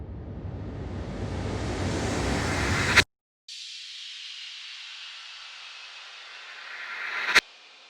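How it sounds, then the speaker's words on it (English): A rushing noise sweep builds to a sharp cutoff, then after a short gap a hissing riser swells and snaps off abruptly like a reversed hit. "There's a sweep, a riser and a reverse impact."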